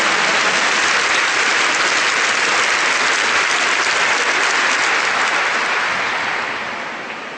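A church congregation claps together in a sustained, dense wave of applause. It stays loud and even for several seconds before tapering off at the end.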